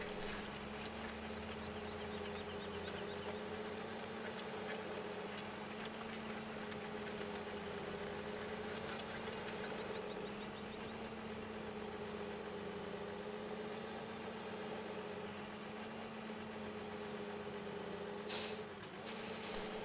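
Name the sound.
tractor engine idling in Farming Simulator 15 video game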